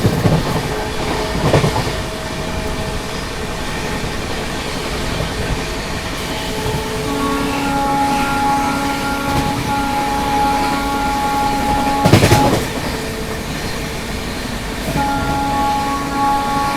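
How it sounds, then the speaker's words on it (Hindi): The Kanpur Shatabdi Express overtakes the Sealdah Rajdhani Express on parallel tracks, heard as a loud, continuous rumble with rhythmic wheel clatter, steady hums and a couple of louder rattling bursts. "इस जर्नी में एक बार फिर से सियालदह राजधानी को ओवरटेक मार दिया अपनी शताब्दी एक्सप्रेस ने।"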